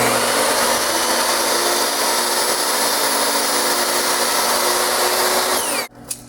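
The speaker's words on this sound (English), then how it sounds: "So we always just take a small amount off the end with the miter saw." A miter saw trims the end off a wooden board, its motor whining loud and steady for nearly six seconds before cutting off abruptly and spinning down, with a small knock after.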